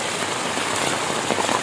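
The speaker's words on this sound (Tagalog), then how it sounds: "Grabe na dai kay kakusog ang ulan diri sa ubos." Heavy rain pours steadily onto a surface in a rural hillside setting, a dense, continuous hiss of drops close by with no pauses and no voices.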